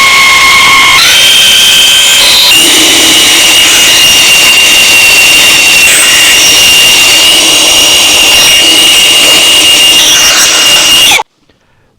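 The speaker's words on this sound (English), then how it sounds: "I'm now trying again with the drill to see if I can get some oil up top here" A power drill spins the oil pump to prime a rebuilt 152 Comanche engine in a Scout restoration, whirring loudly and steadily for about eleven seconds with slight pitch shifts before cutting off abruptly.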